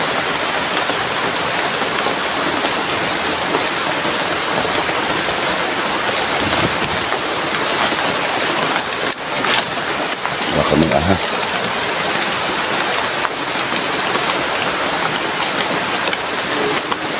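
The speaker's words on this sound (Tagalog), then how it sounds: "Grabe, lakas ng ulan na dito ba?" Heavy rain pours down steadily around a house at night, a dense unbroken hiss throughout, with a voice briefly speaking over it partway through.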